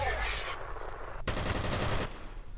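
Rapid automatic gunfire from the first-person shooter game F.E.A.R., a dense continuous burst lasting under a second then cutting off, loud and close over a steady rumbling game background with no talk.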